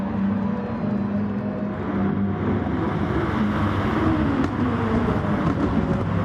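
Race car in a racing sim endurance race at Catalunya braking hard into a left-hand corner, a loud continuous engine roar with shifting pitch and other cars nearby.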